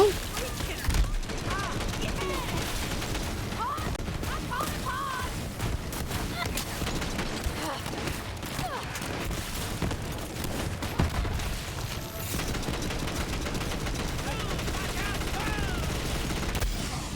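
A gun in Borderlands 3 fires in sustained rapid bursts and heavy barrages that run continuously and loudly throughout, with a voice speaking over the shooting.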